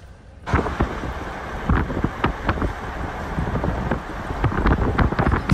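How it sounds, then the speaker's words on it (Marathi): Strong wind buffeting the microphone on a monsoon hill drive in the Amboli hills, loud gusty rumble with repeated sharp thumps, steady throughout. "काय वारा लागतोय जबरदस्त"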